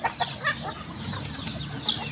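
Barred chickens cluck in a close, busy run at morning feeding time, with sharp calls from a rooster among them and no talking.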